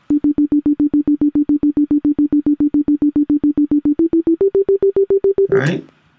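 A soca riddim synth pad, sidechained, pulses in fast, even rhythmic chops on a steady note, stepping up in pitch near the end before a brief noisy burst.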